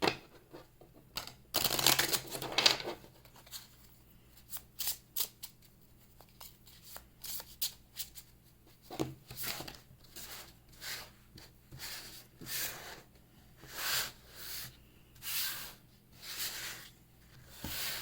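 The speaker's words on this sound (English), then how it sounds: "So I'm moving the cards around." Tarot cards are moved around and shuffled by hand close by. Soft papery swishes, rubs and taps come in irregular bursts, with a louder flurry near the start and quieter rustles later on.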